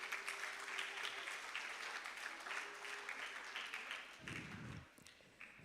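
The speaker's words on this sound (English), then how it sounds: "Give yourselves a round of applause this morning" Students and guests at a junior school graduation ceremony clap in a steady, moderately distant round of applause that thins out toward the end, with a few louder thumps near the close.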